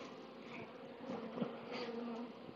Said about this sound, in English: See how many bees there's on it? It's absolutely full of it.